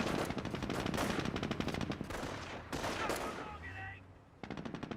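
Sustained machine gun fire rattles in rapid bursts during a Company of Heroes battle, including MG42 fire, loud and dense with brief pauses and overlapping volleys.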